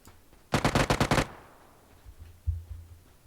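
Gunfire in PUBG as a downed enemy is finished off: a rapid close burst of about seven shots in quick succession, followed by a faint low rumble and a couple of softer thuds.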